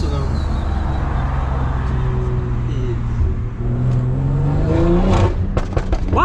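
A 600-horsepower Stage 2 2020 BMW M340i engine drones loudly during hard driving, heard from inside the car. Its pitch climbs toward the end, and people talk over it.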